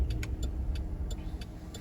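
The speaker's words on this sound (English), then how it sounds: "I see cars coming in now." Cars roll into a small-town parking area in Montevallo, Alabama, a low engine rumble near and moderately loud with faint intermittent clicks and taps over it, no speech.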